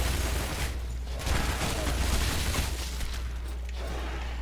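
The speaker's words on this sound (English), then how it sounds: "with double SMGs heralding my arrival" Dual SMGs firing in the Shadow Warrior video game, a dense continuous rattle of rapid shots with whooshes and mechanical clatter over a low rumbling game backdrop.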